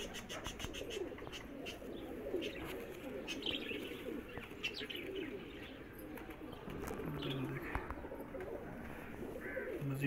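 Soft pigeon cooing repeats in the foreground over a steady outdoor murmur, with occasional chirps and light wing flutters.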